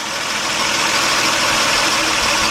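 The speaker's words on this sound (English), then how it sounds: "That's definitely the compressor making that noise." The compressor of a 1998 Nissan Maxima with a 3.0 engine gives off a steady, loud, close whirring drone with a broadband hiss throughout, and no talk over it.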